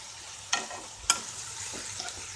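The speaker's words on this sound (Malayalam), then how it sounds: "അപ്പോൾ നമുക്കൊന്നും കൂടി ഈ സവാള ഒന്ന് നല്ലപോലെ ഒന്ന് വഴറ്റിയെടുക്കാം" Onion and green chili sautéing in a pan for a tomato roast, a soft continuous sizzle with a couple of sharp clicks from stirring.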